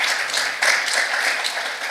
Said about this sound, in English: let's clap for ourselves because we have been active.